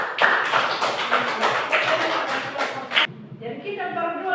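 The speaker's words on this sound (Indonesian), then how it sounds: "mari kita tepuk tangan untuk." Schoolchildren in a classroom clapping their hands together, a burst of rapid, slightly uneven claps that stops abruptly near the end, followed by brief faint chatter.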